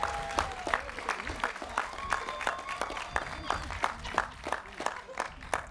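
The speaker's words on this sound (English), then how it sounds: "Yes, give her a round of applause." Applause at a college graduation ceremony: many hands clapping in a steady, slightly uneven rhythm, faint and distant in a large hall, with a speaker's voice talking over it.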